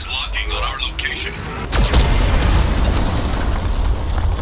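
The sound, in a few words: Geth cannon blast hitting the ship, from video game Mass Effect 2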